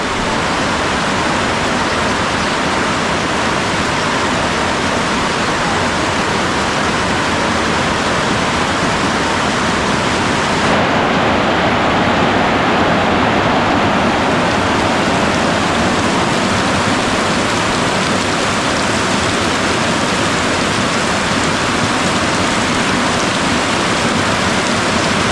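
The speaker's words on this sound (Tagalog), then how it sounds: "Yung malakas na ulan." Heavy rain pours steadily on a hut, a dense unbroken hiss close by that never lets up.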